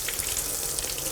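Tap water runs steadily into a laboratory sink as a polished sample is rinsed, giving a close, even, bright splashing hiss with no pauses.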